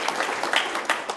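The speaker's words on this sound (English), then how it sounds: "How about a round of applause for our panelists today" Audience applause for the panelists and moderator at a chamber of commerce leadership panel with casino executives, a short, steady patter of many hands clapping at moderate volume with no talk over it.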